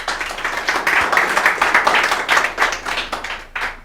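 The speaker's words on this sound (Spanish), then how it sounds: "Démosle un fuerte aplauso," An audience at an academic conference on thyroid health claps in a steady, dense round of applause, many hands close and loud, swelling and easing slightly without any talk.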